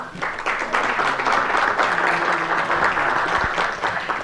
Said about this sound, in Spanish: Lo vamos a recibir con este aplauso